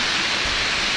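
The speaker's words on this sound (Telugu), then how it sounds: "వసుధారా ఫాల్స్." Vasudhara Falls pours in a steady, dense roar of water, a broad hiss that holds constant and loud for about a second with no voices.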